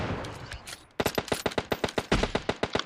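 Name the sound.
gunfire in PUBG Mobile video game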